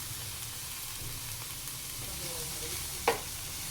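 A chicken mixture with crushed red chilli, black pepper and salt is stirred and roasted in a pan, giving a faint, even sizzle with one sharp spoon clink near the end.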